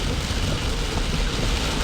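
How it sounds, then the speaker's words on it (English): A heavy downpour during a severe thunderstorm in Ankeny, with dense steady rain roaring evenly and loudly throughout, no pauses or distinct thunder claps. "And then fuller downpour."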